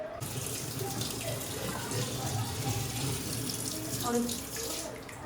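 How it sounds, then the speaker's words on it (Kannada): A mini washing machine drains its water in a steady running, splashing flow at close range that continues throughout, with faint background noise. "ಇದು ನೀರೆಲ್ಲ ಖಾಲಿ ಮಾಡತ್ತಿವಾಗ ಇವಾಗ ಮತ್ತೆ ಬೇಕಾದರೆ ಬೇರೆ ನೀರು ಬಿಡ್ಕೋಬೋದು"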